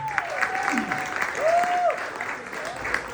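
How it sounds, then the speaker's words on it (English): Audience applause at a live comedy show in Yaoundé, steady clapping filling the room, with a voice briefly talking over it. "Please a hand of applause for PENBOY."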